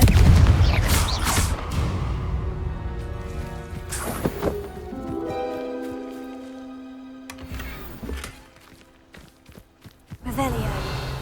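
A Confringo spell cast in Hogwarts Legacy, heard as several booming magical blasts with whooshing bursts and a sustained ringing tone between them, the impacts spaced unevenly across the passage with no talk.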